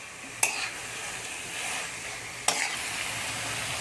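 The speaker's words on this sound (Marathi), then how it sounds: "मोठ्या गॅसवरच याला ना आता एक 4-5 मिनटं आपल्याला फ्राय करत राहायचं बरं का सारखं" Chicken frying in a pan over a high flame, a steady loud sizzle throughout with two sharp stirring scrapes breaking in, alone without talk.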